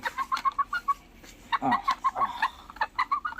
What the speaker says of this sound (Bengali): ওনার নাম হচ্ছে ব্যান্থাম জাপানিজ হোয়াইট টেল ব্যান্থাম